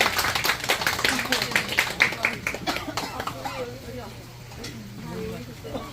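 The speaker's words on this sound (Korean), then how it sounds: "우리 박수 한번 쳐주세요" Audience applause at a 2025 summer workshop: a dense burst of clapping fills the first three seconds, then thins and fades while voices talk over it.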